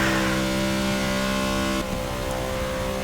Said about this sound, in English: Riding on board with Chase Elliott